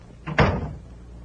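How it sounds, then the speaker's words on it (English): A single door swings shut with a firm thud and a short rattle in a radio drama, close and fairly loud, then quiet room tone follows. "Nosy, close the door."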